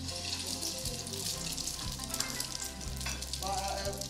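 Bitter gourd (ampalaya) frying in a pan, giving a steady close sizzle with occasional clinks of stirring.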